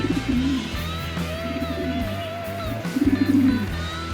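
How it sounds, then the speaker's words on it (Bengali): Colourful fancy pigeons at a pigeon farm coo in low, throaty bursts, with one burst near the start and another after a short pause, over steady background noise and a faint tonal hum, with no talking. "সবচেয়ে আকর্ষণীয় কবুতর হচ্ছে এগুলা"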